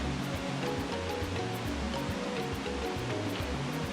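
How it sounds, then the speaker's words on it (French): Rushing river rapids and waterfalls roar as a steady, dense wash of water, loud and continuous throughout with no voices. "Des rapides pittoresques et des cascades sont la principale attraction de ces lieux où les chants d'oiseaux se mêlent au clapotis des eaux"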